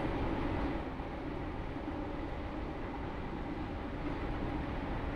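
Roblox Stepford County Railway train running in the game, a steady broadband rumble with a dense low-frequency roll that holds at a constant loud level throughout, with no voices.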